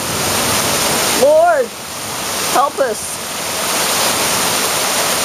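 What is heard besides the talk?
heavy rain water pouring off a roof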